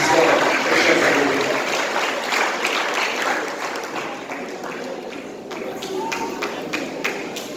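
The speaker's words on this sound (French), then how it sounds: "Nous vous applaudissons, mes chers amis." A church congregation at a Sunday service applauds, a fairly loud wash of clapping that slowly thins and fades, leaving a few scattered claps near the end.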